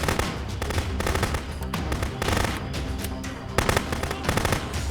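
Rapid, dense gunfire in the police game Contraband Police, many shots fired in quick bursts, loud and continuous with no talk over it.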